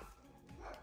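Small dogs bark and yip a few times in a home, close by and moderately loud, in a brief burst.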